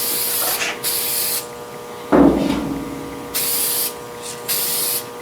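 Short hissing bursts from a spray can laying on an even coat, four close, loud sprays of about a second each separated by pauses, with a brief clunk in between.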